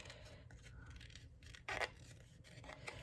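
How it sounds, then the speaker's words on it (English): Scissors cut around the edge of a tea bag for a collage in a series of quiet snipping and rustling sounds, with one brief, crisper cut partway through. "you can cut them down. You know, you could always just cut around the edge"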